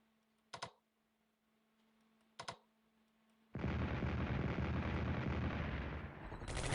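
Artillery fire in the Strategic Command WW2 Pacific war game: two short sharp reports a couple of seconds apart, then a long loud sustained rumbling barrage that keeps roaring to the end.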